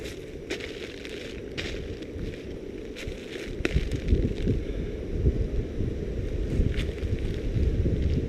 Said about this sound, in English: this frigid wind is what's right behind it